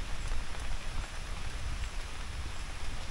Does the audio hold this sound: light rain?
yes